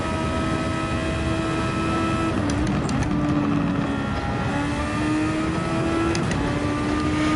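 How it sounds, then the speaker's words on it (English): A Super Formula race car engine in a VR racing game, a sustained droning whine holding steady pitch with small shifts and dips, continuous and fairly close, with no voices. "It feels like the car's running out of revs up the hill."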